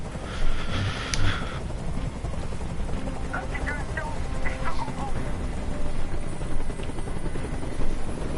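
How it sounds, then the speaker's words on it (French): A video game helicopter's rotor thrums steadily and loudly while hovering, with a few faint electronic tones and clicks over the top. "Je peux plus supporter ce bruit. Fais dégager cet hélicoptère, maintenant."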